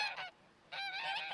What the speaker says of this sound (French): Les oies cessent leur vacarme